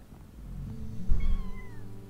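A lynx cub meows in the Paws video game: one clear, rising-and-falling meow up close over a soft low background rumble.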